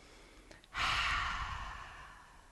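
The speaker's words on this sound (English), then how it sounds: "on the exhale you make a noise like you're fogging up a mirror" A single long, breathy ujjayi (ocean breath) exhale through a constricted throat, a soft hissing whoosh that fades gradually.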